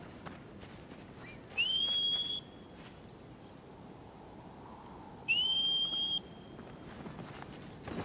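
Two clear rising whistle notes in the video game Shadow of the Colossus, each held about a second, separated by several seconds of quiet ambient noise.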